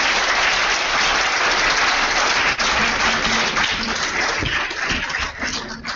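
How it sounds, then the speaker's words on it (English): Sustained applause from a large audience at a film event, loud and continuous, tapering slightly toward the end. "could we have a huge round of applause"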